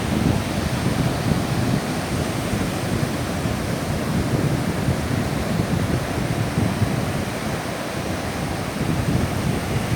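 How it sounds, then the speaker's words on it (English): Rough ocean surf at Labadi beach in Accra, Ghana roars as a constant, loud broadband rush, with wind buffeting the microphone and no voices over it. "I hope you can see the ocean quite well. It's very rough."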